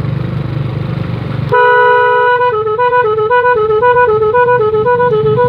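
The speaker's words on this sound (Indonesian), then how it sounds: "saya panggil pakai klakson dulu" A vehicle horn honks in a long melodic run of alternating tones, loud and close, as a roving vegetable seller calls customers after a rough road; engine rumble runs beneath before the horn begins.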